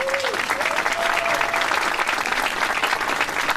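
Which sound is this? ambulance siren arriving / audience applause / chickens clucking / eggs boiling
audience applause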